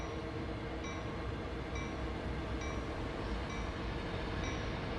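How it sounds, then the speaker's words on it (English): A loaded coal train passes close by in the railway simulator Train Sim World, a dense continuous rumble and roar of rolling wagons with faint periodic clicks, steady and loud throughout without any voices. "We got another train passing us."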